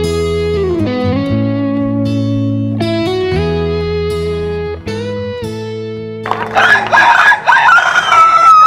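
A woman imitating a rooster crow with her voice at a rooster crow event, a long sustained tonal call with sliding pitch, loud and close, breaking into a rougher strained cry at the end.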